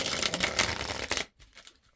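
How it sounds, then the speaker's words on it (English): Tarot cards are shuffled by hand in a quick, papery riffle lasting about a second, then trail off into a few soft taps and near silence. "What a good shuffle."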